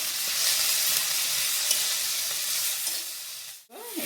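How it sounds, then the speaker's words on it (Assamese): Hot water hits a curry frying with salt and turmeric, setting off a loud, continuous sizzling hiss that cuts off abruptly near the end. "এতিয়া ইয়াতে মই গৰম পানী দি দিছোঁ"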